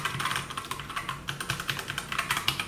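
Rapid typing on a Clix x Matrix 60% mechanical keyboard, a quick run of close, crisp key clacks in an uneven rhythm, fairly quiet and with no talking.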